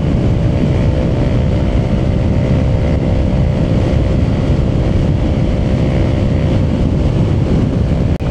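Riding a Honda ADV scooter produces a constant, loud engine drone with heavy wind rush over the microphone, steady from start to finish without speech.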